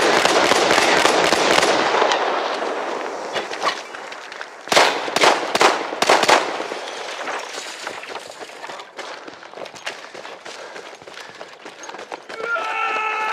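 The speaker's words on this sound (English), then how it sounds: "It's grenades for them! Grenades!" Grenades and explosions in the game Battlefield 1, a dense roar of battle noise with several sharp loud blasts in a cluster near the middle, then quieter scattered pops and crackles.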